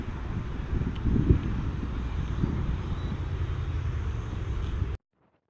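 A JDRC JD20 toy drone flies forward into strong wind outdoors, its faint whir buried under steady, loud wind buffeting on the microphone for about five seconds before cutting to silence.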